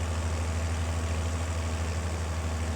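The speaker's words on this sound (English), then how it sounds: "What a fun little tractor." A Deutz-Fahr tractor engine idles nearby with a steady, low, even rumble and a faint regular throb, with no pauses or changes over a few seconds.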